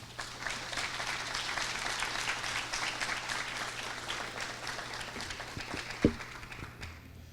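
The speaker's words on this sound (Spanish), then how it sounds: "les pido por favor que recibamos con fuertes aplausos" A seminar audience on a university campus gives sustained, moderately loud applause, dense and even, thinning toward the end with a few louder knocks and bumps.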